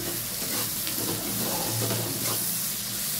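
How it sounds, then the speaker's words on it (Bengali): Onions fry in a pan for a mutton dish, giving a loud, continuous sizzle and crackle with faint stirring, and no voices over it. "পেঁয়াজটা একটু লাল লাল করে ভেজে নিলে"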